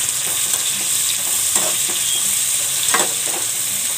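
Chopped onion frying in a pan gives off a continuous bright sizzle, with occasional stirring scrapes and clinks over the steady hiss, and no talk.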